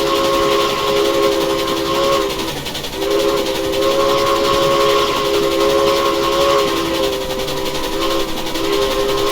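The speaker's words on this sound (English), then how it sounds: "Let's blow the whistle" Steam locomotive whistle in the Railroads Online game, a loud sustained multi-tone blast held almost ten seconds with a brief dip near the middle, over a steady hiss of steam.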